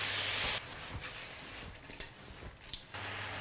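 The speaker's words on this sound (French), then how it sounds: "Dans une poêle chaude, mettre un filet d'huile d'olive et on va faire sauter les girolles." Girolle mushrooms sautéing in a drizzle of olive oil in a hot pan, a soft close sizzle and hiss broken by small pops, framed by louder, brighter hissing at the start and end.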